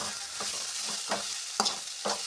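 Onion and tomato fry in a pan for a soaked puffed rice dish, giving a steady close sizzle with several soft scraping stirs at irregular intervals.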